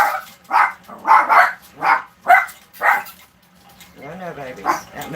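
Puppies barking indoors in a home kitchen, a run of about seven quick, fairly loud yips and barks followed by softer whimpering and yowling sounds toward the end.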